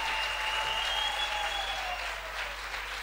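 Steady applause from a crowd, many hands clapping continuously at a fairly even level, with a faint sustained tone running underneath.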